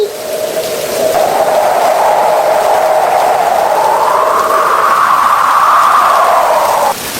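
Steady heavy rainfall as a cartoon sound effect, a loud continuous wash of rain with a rising, whistling tone running through it and no talking.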